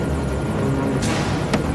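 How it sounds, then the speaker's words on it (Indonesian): Helicopter rotor and engine noise in a film action scene, a steady loud broadband roar throughout with no talk. "Lucky yang mencemaskan keselamatan kakaknya memutuskan kembali untuk membantu Ram dengan helikopter."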